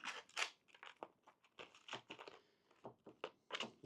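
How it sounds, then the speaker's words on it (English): Crunchy bites into battered cod and chips, a run of crisp, crackling crunches in quick bursts, close and fairly quiet with no talking. "that's a nice crunch."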